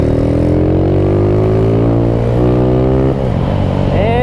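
A motorcycle engine revs hard and close while the clutch is worked, holding a loud, steady drone whose pitch climbs and drops with brief dips, and a voice speaks faintly over it.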